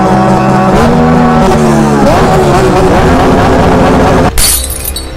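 A stripped-down Yamaha MT-07 on a hill revs loud and close, its engine note climbing and dipping through repeated throttle blips, before a sudden burst of harsh noise near the end.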